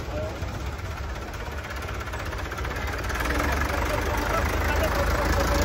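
Zetor 50 vintage tractor engine idling at a harvest festival, a steady low rumbling chug that grows slightly louder, with a voice speaking over it.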